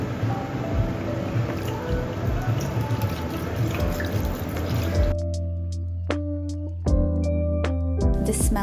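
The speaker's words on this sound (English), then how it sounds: "The next step is to pour in wine and let that simmer." Wine pours into a pan holding spices, orange slices and apple, giving a steady liquid gurgle that stops abruptly, followed by a few scattered drips and small clinks at close range.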